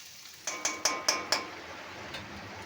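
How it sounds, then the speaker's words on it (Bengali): A spoon knocks against a kadai while onions fry in oil, five quick metallic clinks in a row and one later tap, faint and close. "সাথে তেলের ওপর দিয়ে দিলাম পেঁয়াজ, ভালো করে একটু লাল লাল করে নেড়ে নিই।"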